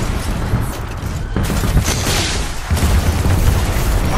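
Splitter rifle fire in the Titanfall 2 game, on full spread during a titan fight: a dense, loud barrage of booming blasts that runs continuously, with heavier bursts near the end.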